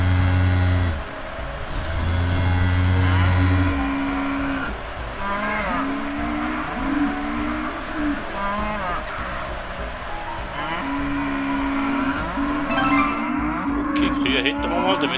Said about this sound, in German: Und da hätten wir nochmal ein paar Kühe.